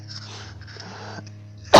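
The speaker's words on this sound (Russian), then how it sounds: "да ты утомил уже кашель" After a quiet electrical hum, a single sudden, loud, close cough bursts out at the very end.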